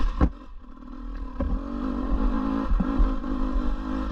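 A 2024 KTM 250 EXC dirt bike engine pulls in second gear, a rising, rough engine drone building steadily with a few clunks and rattles, close and fairly loud.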